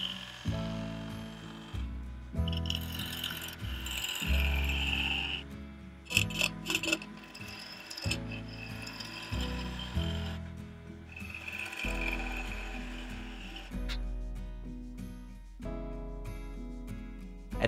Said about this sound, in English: remount the snowman between centers and begin turning until the excess milliput is removed